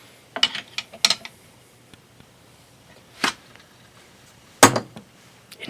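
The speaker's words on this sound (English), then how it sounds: "I'm gonna get a crescent wrench to tighten that up just a little bit." Metallic ratcheting clicks and clinks from a crescent wrench tightening a hex nut on a bench-mount variable speed buffer, in a few short separate bursts with quiet gaps between, fairly close and moderately loud.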